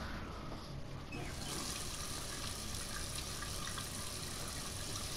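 Shower water starts up in the video game Heavy Rain, turning into a dense, steady hiss of spray that keeps going without pause, with no voices.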